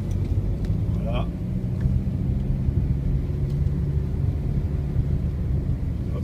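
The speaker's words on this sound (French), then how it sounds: "vous avez juste le passage d'un véhicule" A vehicle drives along a narrow mountain road, giving a constant low engine rumble close by, with a brief voice-like sound near the start.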